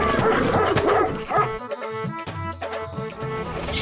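A bulldog barks and growls in an animated Hindi story, loud close yapping barks and snarls in quick bursts over a layered background of music-like tones.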